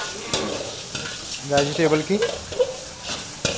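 Vegetables and chilli chicken stir-fry in a pan at an Amritsar street food stall, sizzling softly under repeated sharp clinks of a metal spatula, while someone talks over the cooking.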